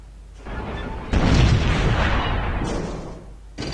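An artillery shot in Civilization III: Conquests during a war between Korea and the Maya: a loud, near cannon boom followed by a rumbling roar that decays over a few seconds, with a second burst starting near the end.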